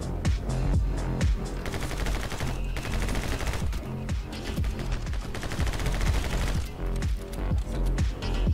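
Gunfire in the side-scrolling shooter My Friend Pedro, dense and continuous with rapid overlapping shots and impacts over a game soundtrack, loud throughout with no talking.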